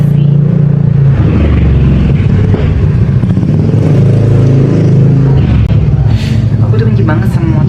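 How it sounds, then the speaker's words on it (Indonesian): A loud, rough motorcycle engine rumbles and revs steadily throughout, close by, with faint talk mixed underneath. "motor yang berisik banget"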